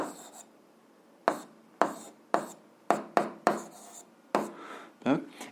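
A pen or chalk writes out an algebra equation in a run of short, scratchy strokes, each a sharp rub starting abruptly and fading, close and clear, with quiet pauses between strokes.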